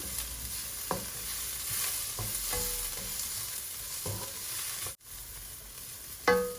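Potatoes fry in a pan with turmeric powder, a continuous sizzle punctuated by several spaced scraping strokes of a spoon stirring them, ending in a louder clatter.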